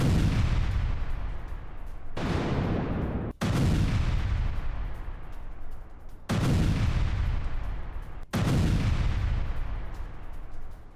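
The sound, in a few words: Ukrainian missile attack and bombardment on Russian positions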